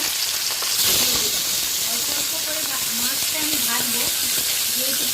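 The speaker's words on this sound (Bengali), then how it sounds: "তারপরের মাছগুলো এই যে ভেজে নিচ্ছি" Pomfret fish fry in hot oil in a wok, giving a loud, steady hissing sizzle that runs throughout, with a faint voice-like wavering tone in the background.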